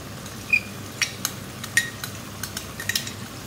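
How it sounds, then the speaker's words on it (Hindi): Boiled chickpeas being mashed and stirred with a metal utensil in a pan, giving a series of close, sharp scraping clicks and taps at an irregular rhythm with nobody talking. "ये इस तरह से मैश भी कर देंगे इसको।"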